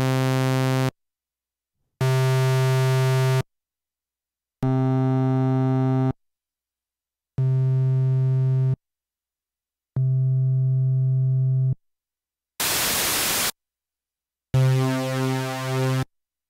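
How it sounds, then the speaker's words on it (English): Roland Gaia SH-01 synthesizer cycling through single held notes of different oscillator waveforms, sawtooth, pulse, square, a burst of noise and a thick supersaw, each a loud sustained tone of about a second separated by brief silences. "So there's different types of waveforms, such as sawtooth, pulse width, square, noise, and supersaw."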